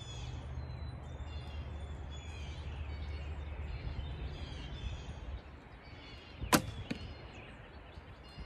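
A single shot from an ILF Hoyt Satori bow gives one sharp, loud snap of arrow release and impact, then a fainter echoing tick, after several seconds of steady outdoor hum with distant birds.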